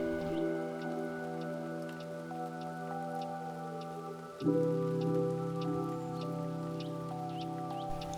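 Light early morning rain patters steadily outside a homestay window in a misty mountain village in Yunnan, a soft continuous hiss with faint drips under a constant low hum.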